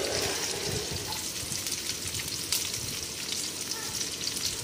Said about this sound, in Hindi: अब हम कढ़ाई में तेल गरम कर लेंगे और उसमें डालेंगे हरी मिर्च,